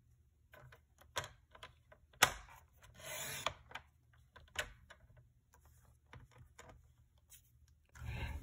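A paper trimmer cuts cardstock for a pop-up card, with scattered soft rubs, clicks and a couple of short rasping slides, quiet and close with no talking.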